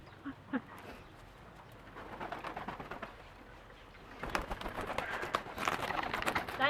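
Pigeons cooing in a loft of fancy pigeon breeds, soft low coos scattered throughout amid rustling and shuffling, getting busier toward the end.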